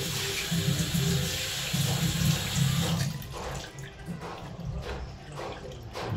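Boiled milk poured from a pan into a bowl, a steady liquid stream that is louder at first and then thins into lighter splashes and trickles, fairly faint and close, with no talking.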